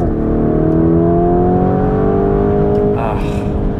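A Lamborghini Urus SUV engine in Corsa mode revs steadily upward as the car accelerates hard. The drone is loud and continuous from inside the cabin, and the pitch climbs before a brief shift blip near the end.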